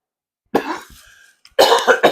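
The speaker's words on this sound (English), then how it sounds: "I shouldn't sing when I'm sick because it makes me cough" Two harsh, close coughs, a single one and then a stronger double cough after a short pause, with no talking.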